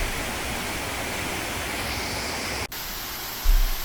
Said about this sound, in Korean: 최근에 비가 별로 내리지 않아 폭포에서 떨어지는 물이 많지 않아서 폭포가 다소 가냘프게 보이는 아쉬움은 있었지만 이 폭포도 참 예쁩니다.